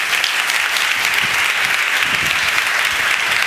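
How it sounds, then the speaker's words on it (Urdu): Audience at a church sermon on Jesus' resurrection clapping together, a dense, steady wash of applause from a large crowd, fairly loud and sustained throughout without pause. "ذرا ایک ذرا زوردار تالیاں اپنے لیے مارو"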